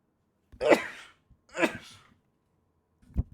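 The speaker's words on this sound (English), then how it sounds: "I need to sneeze." Two sharp sneezes in quick succession, each a bursting exhale a second apart, followed by a short throaty sniff or cough near the end, close and otherwise quiet.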